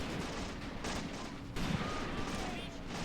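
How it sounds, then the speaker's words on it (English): Soldiers firing weapons in Graviteam Tactics, a World War II battle near Shilovo in 1942 with MP40 submachine guns among the guns, crackle as a dense, steady fusillade of overlapping shots throughout, with louder bursts midway and a voice speaking over it. "Shoot, men, shoot!"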